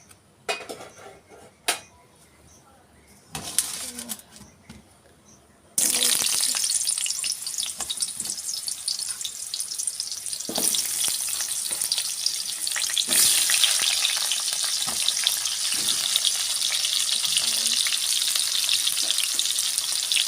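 Potato and chicken frying in oil in a kadai: a few quiet clinks of utensils at first, then a sudden loud, continuous sizzle that stays strong to the end with stirring noises mixed in.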